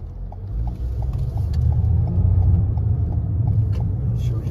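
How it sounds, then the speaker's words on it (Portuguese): A car on a mountain road approaches with a steady low engine rumble that swells over several seconds, with light ticking and road noise on top. "Inclusive tá vindo um carro"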